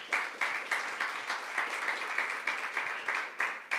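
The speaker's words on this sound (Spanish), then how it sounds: "Le damos un fuerte aplauso a nuestro Dios." A church congregation at Ministerios Ebenezer Acajutla applauds, with dense, steady clapping from many hands filling the room and swelling in rhythmic pulses throughout.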